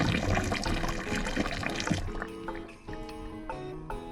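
Water gurgling and trickling as it drains down a sink pipe that had frozen and just thawed, in a camper van in a South Dakota winter; a steady wet rush that thins into scattered drips and glugs.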